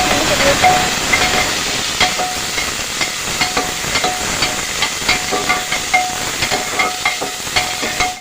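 Chopped onions dropped into hot oil with crackled cumin seeds in a pan for lauki sabzi, giving a steady hissing sizzle with faint crackling pops throughout, close and fairly loud with no talking.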